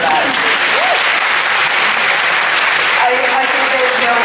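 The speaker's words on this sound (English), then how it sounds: "seriously, round of applause for that" An audience at a Supernatural fan convention applauds steadily and loudly, a dense wash of clapping with a few faint cheers and a voice heard briefly through it.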